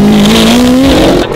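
A Lamborghini SV supercar at a sunset supercar meet revs loudly and close, its engine note climbing steadily for over a second before easing off.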